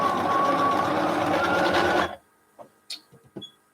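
A quilter's sewing machine with bobbin trouble runs loud and close in a steady mechanical whirr for about two seconds, then stops and leaves a few scattered clicks and taps.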